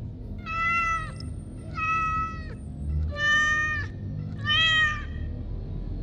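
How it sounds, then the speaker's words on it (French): A cat meows four times in a row, each call drawn out and tonal, close and clear over a low steady background hum. "Le chat parlait si vite que Bill ne parvenait pas à placer un mot entre deux miaou"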